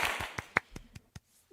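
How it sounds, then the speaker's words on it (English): Short burst of hand clapping from a small group, a handful of sharp separate claps tapering off over about a second, close and fairly quiet with no talk. "We're gonna give that a bit of applause because not everyone has that benefit"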